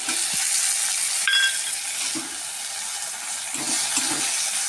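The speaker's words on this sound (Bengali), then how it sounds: "পেঁয়াজগুলো লাল লাল করে ভাজা হয়ে গেছে, আমি এবার আদা রসুনের পেস্ট দিয়ে দিলাম।" Ginger-garlic paste tipped into browned fried onions, giving a soft, steady sizzle with a few scraping stir strokes and a brief clink, fairly quiet and heard alone with no talk.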